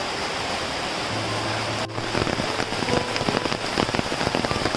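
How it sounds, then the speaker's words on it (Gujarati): Steady heavy rain falling at the Mahal eco-tourism forest campsite in Dang, Gujarat, a dense even hiss with close drops pattering on a nearby surface, with no talk. "અત્યારે તો તમને સરસ વરસાદ બતાવું છું"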